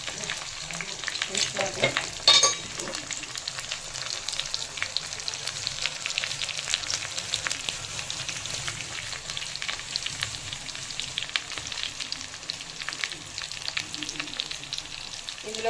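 Mustard seeds and cumin crackling in hot oil in a pan, a continuous close sizzle with a few sharp pops and stirring scrapes; a voice speaks briefly.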